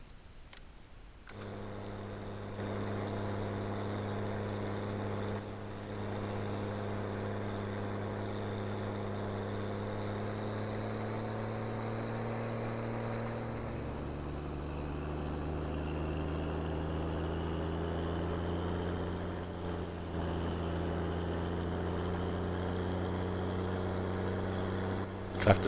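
Tractor engine in a farming game, hauling a heavy load of nearly 70,000 of wood chip, droning steadily and evenly at moderate loudness with a downward pitch shift midway, no talk.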